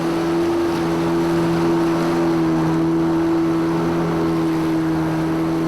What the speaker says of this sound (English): The boatsmen are completely at home in these foaming waters and use great skill in steering the boats.